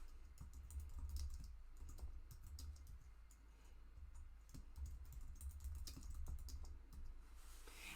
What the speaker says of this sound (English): So you would just type those here into the Google Doc that you opened.